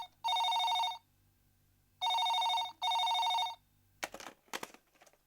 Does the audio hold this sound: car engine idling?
no